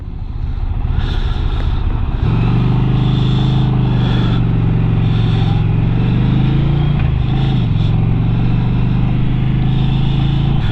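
A 2020 Indian Challenger motorcycle is ridden, its engine rising after about two seconds into a loud steady drone with wind noise and a brief dip in pitch near the end, without speech.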